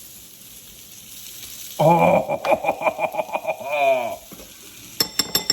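Vegetables sautéing in a hot pan for beef bulgogi bowls, a loud close sizzle with rhythmic stirring scrapes in the middle, a brief voice exclamation, then quieter sizzling with a few clinks at the end.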